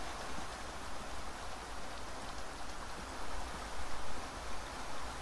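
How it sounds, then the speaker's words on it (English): Sewage waterfall in Beyond Eyes, a constant broad rushing splash of falling water, dense and even for about five seconds with slight swells, no voices. "It's a waterfall thingy."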